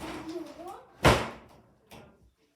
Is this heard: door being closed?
yes